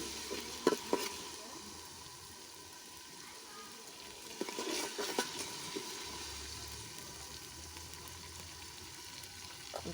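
Onions fry with ginger paste in a pot, giving a soft, steady sizzle broken by a few light scraping stirs. It stays fairly faint, with a voice speaking quietly at times.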